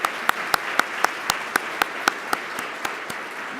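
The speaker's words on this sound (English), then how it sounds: "round of applause." Sparse, evenly spaced handclaps, apparently from only a few people, sound at a business executives club luncheon, forming a steady rhythmic patter of sharp individual claps rather than a full ovation.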